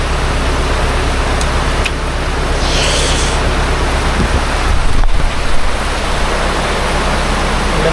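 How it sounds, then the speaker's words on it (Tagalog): Heavy rain pours steadily on a rural Philippine homestead, a dense continuous hiss with a low rumble beneath it, close and loud with no talk throughout. "Ulan pa more."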